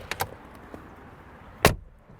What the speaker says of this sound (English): what it sounds like when you open and close these doors